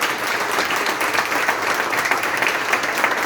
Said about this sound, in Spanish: yo le invito a que le demos unas fuertes palmas a la Iglesia Católica